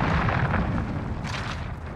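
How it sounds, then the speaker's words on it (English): A cruise missile explosion in Modern Warfare on the Harbour map: a rumbling, sustained blast with a deep low roar and crackling bursts that rolls on for about two seconds, fairly loud, with no voices. "Enemy cruise missile incoming."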